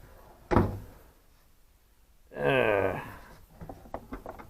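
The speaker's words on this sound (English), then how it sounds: "door falls shut" A door on a Ford F150 falls shut with a single sharp thunk during heater box work. Talking follows, with a few small knocks and taps under it.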